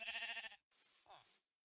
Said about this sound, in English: Why do we have a bighorn sheep in here?